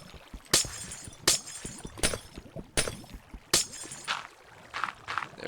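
Glass blocks shatter in the Minecraft video game, five sharp, crackling breaks arriving at a steady pace, close and clear, followed by a few softer tinkling bits.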